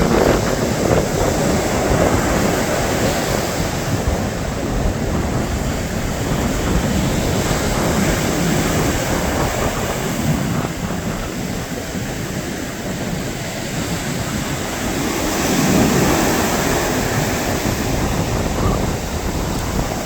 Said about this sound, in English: this is about the heaviest waves that I've seen in a long,